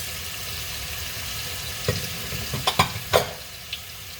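Tomatoes stir-fry with bitter melon in a hot pan, a steady close sizzle with several sharp scrapes and clacks of a utensil stirring near the end.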